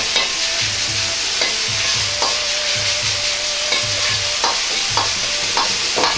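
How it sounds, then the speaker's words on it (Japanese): Minced meat for mapo-style daikon stir-fries loudly in a hot pan, a constant dense sizzle cut by rhythmic scrapes and taps as a ladle bottom spreads the meat, with no talking. "ひき肉はお玉の底で広げるようにして炒めます。"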